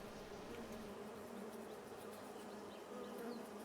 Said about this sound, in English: so we got our bees flying